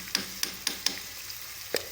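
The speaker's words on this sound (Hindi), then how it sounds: "ये मैंने प्याज़ों को काट के इसको हल्का सा ब्राउन करना है" Chopped onions fry in a pan with a soft, continuous sizzle. Several crisp clicks of a stirring spoon against the pan land in quick succession, then a brief louder clatter.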